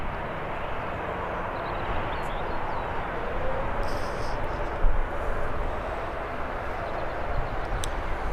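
An airliner at Birmingham airport powers up for takeoff, a broad, continuous jet-engine roar heard from a distance that swells slightly, with a few faint higher tones over the rushing noise.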